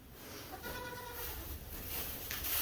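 A small young goat on a farm bleats in a short wavering call near the middle, heard fairly close over quiet background noise.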